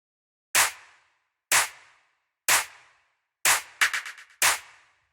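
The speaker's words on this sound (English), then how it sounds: "The next thing we have here, these claps," Layered tech house clap samples, five sharp bright hits spaced about a second apart, the fourth followed by a quick stuttering flurry of repeats, each clap decaying fast into silence.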